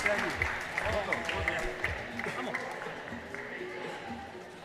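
Crowd applauds after the men's pro padel final at the Batangas Open on the Asia Pacific Padel Tour, a moderate patter of clapping under a commentator's talk that thins out toward the end.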